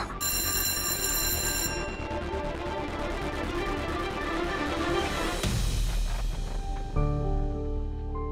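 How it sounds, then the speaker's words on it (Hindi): Telephone ringing in a repeated electronic bell pattern, steady and fairly loud, with the tone changing partway through and continuing alone without talk. "रॉकी फोन उठा।"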